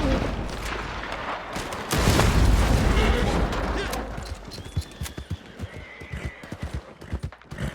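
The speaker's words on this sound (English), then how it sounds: "I'm running around with the horse." A horse in an Xbox video game gallops with rhythmic clip-clop hoofbeats and a whinny, joined by a burst of loud game noise in the middle, then quick, sharp clatters toward the end.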